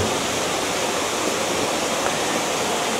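A flowing mountain stream on Mt Makiling, near an abandoned resort, rushes with a steady, dense wash of water that holds at a constant level throughout without pause.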